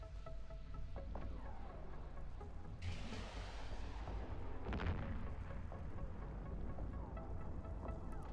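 Weapons fire in the space game EVE Online, a continuous low rumble of heavy booming shots with a sharp burst near three seconds and another near five, dense and steady throughout.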